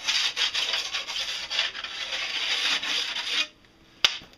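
Hand smoothing of snowboard edges during a basic tune, a steady abrasive rubbing with a rasping texture that runs continuously and close for about three and a half seconds, then stops, followed by a single short knock.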